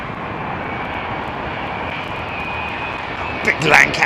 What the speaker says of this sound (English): Big Lancaster bomber.